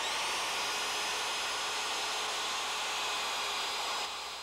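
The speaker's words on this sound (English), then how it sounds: "Then we'll pull the ledger off and drill the holes." A steady, high-pitched whirring drone runs continuously at close range as a power drill bores holes for a terrace ledger, easing off slightly at the very end.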